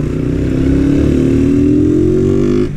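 A Honda Titan 160 motorcycle accelerates with its engine revving steadily upward, loud and close, then drops in pitch near the end as if shifting gear.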